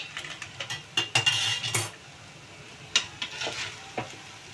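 Kanika rice gently stirred in a pan, a series of soft scraping strokes and light metal clinks with a faint sizzle underneath, in irregular bursts separated by short pauses.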